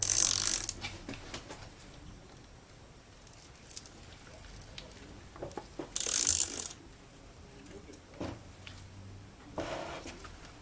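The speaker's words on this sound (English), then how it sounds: "So we got our torque wrench set." A torque wrench clicks and ratchets in short bursts while working on a Troy-Bilt TB4BP EC backpack gas leaf blower, with quiet handling noises between the louder ratchet spells.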